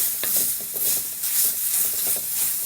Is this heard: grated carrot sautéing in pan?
yes